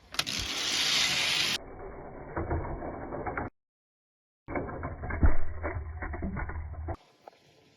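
Die-cast toy cars, including a Bone Shaker and a GMC Cyclone, roll down a speedway track with a rattling mechanical whir and clicking. The run breaks off briefly, then resumes with clattering and a bump before fading out.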